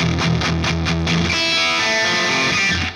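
A single-coil electric guitar driven through a distortion pedal plays a few choppy, repeated chords, then lets one sustained, buzzing chord ring out loud and close before it fades at the end.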